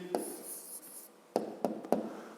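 A pen scratches on paper as an answer is written down for a fifth-grade maths exercise, with a few short, quiet strokes separated by brief pauses in a hushed room.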